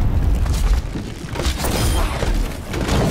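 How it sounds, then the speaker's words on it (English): Bombs exploding against a castle in the Overwatch video game, a loud, continuous low rumble of booms and thuds rolling without a break, no talk. "Dr. Junkenstein lobbed his bombs at the castle. The explosions"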